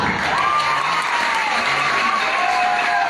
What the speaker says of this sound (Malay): Tepuk tangan untuk seni gila